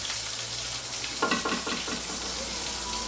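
Chicken sizzles and crackles in hot oil in a skillet, with a steady frying hiss throughout and a brief burst of louder spattering and stirring near the middle.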